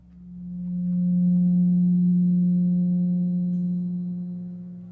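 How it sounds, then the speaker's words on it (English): A pure, steady 180 Hz tone representing a triangle's 180 degrees fades in, holds evenly for several seconds and tapers slightly at the end, sounding alone with no other noise. "let's listen to what the 180 total degrees contained in a triangle sound like."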